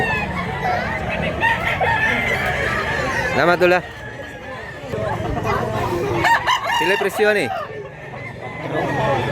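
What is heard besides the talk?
rooster crowing at a market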